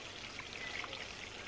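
Water flowing at an old mill site beside a small pond, a faint, gentle trickling and pouring with light splashy detail, steady and fairly distant.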